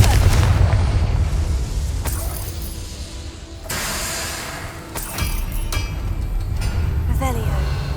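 Confringo fire spell blasts in Hogwarts Legacy, several booming explosions with crackling debris and magical whooshes, loud and punchy, with brief spoken spell incantations over the action.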